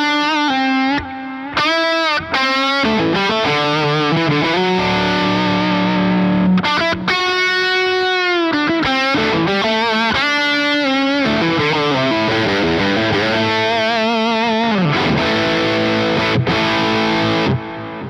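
Electric guitar through a Synergy IICP amp module on channel 1, distorted chords and single-note lines played up close, with sustained notes, bends and brief pauses between phrases.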